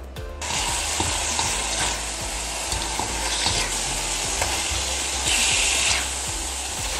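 Beef sizzles and fries steadily in a pan for beef with broccoli, with a constant loud hiss and repeated scraping stir strokes close by, without talk.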